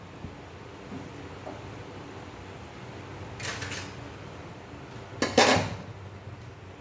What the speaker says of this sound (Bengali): গ্যাসটা ধরিয়ে আমি কড়াইটা বসিয়ে দিলাম